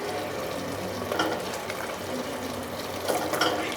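Half a kilo of mutton and a little fat go into a hot pan for biryani, frying with a continuous close sizzle and a few louder bursts of spattering.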